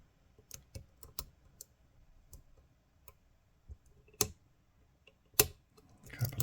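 Sharp, sparse clicks from the pins of a Minit/GEGE padlock with a restrictive keyway being picked, isolated ticks at irregular intervals with a few louder snaps, close and otherwise quiet.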